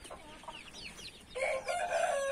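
A chicken clucks and crows in a couple of short calls, then a louder, sustained crowing-like call takes over in the second half, close and clear with no talking.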